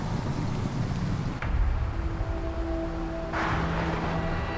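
Strong wind from an Arctic front roars steadily across a northern Alberta highway, with heavy low rumbling buffeting, a continuous blustery wash of noise with a few faint tonal whines underneath.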